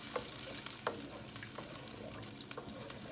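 Coconut milk stirred into a pot of tilapia for ginataang tilapia, giving soft scraping stirs with light sizzling underneath, steady and close, no voices.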